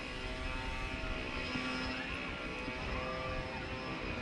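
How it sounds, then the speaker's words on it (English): A steady, loud motorized drone with constant whine and rumble, unbroken throughout, like a leaf blower running nearby. "there's somebody blowing leaves up here on the bank"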